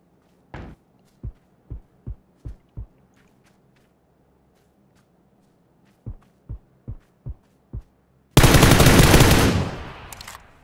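Video game gunfire: two separate runs of five sharp, evenly spaced single shots with a quiet pause between them, followed by a sudden loud, sustained roaring burst that slowly fades.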